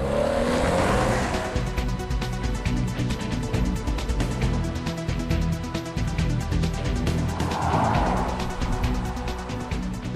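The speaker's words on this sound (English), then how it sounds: "This is the all-new Ford Escape." An all-new third-generation Ford Escape SUV, built on the Focus platform, drives by with a loud, sustained engine and road roar that swells twice as it passes close, with no talking.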